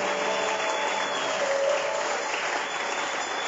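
A church congregation at a worship service applauds the Lord with steady, dense clapping that fills the room without a break.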